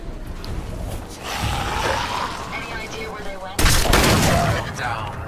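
Missiles fire in Fallout 4 with a dense, rumbling barrage of blasts, and a sudden loud explosion bursts in late and keeps roaring.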